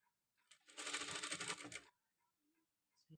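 A sewing machine stitches piping onto fabric in one close burst of rapid needle chatter lasting just over a second, with quiet handling noises before and after.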